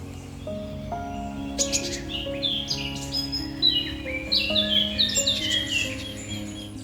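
A loud, sharp metallic bird call rings through cloud forest canopy, repeated bursts of piercing notes over sustained low musical tones, close and prominent.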